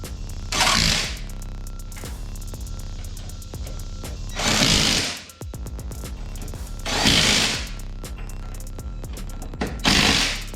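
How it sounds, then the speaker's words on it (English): Lug nuts being tightened on a Kawasaki KRX 1000 wheel with a power tool, four separate loud rattling bursts spaced a couple of seconds apart over a steady low hum. "She's gonna tighten up the lug nuts."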